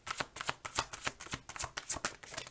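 Tarot cards being shuffled by hand for a reading: a quick series of crisp riffling flutters in a regular rhythm, soft and close, with no talking.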